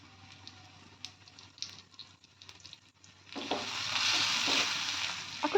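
Chopped green chilies hit hot oil in a pan for ghugni, starting with faint stirring clicks and then swelling into a loud, steady sizzle for the last couple of seconds.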